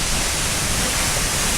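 Steady broadband roar of the tall Curug Cibeureum waterfall, its water crashing continuously and close by with no pauses, sounding like dense hiss.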